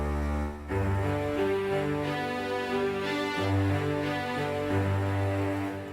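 Orchestral string section playing sustained chords, a full, dense layered sound with smooth chord changes, steady and close.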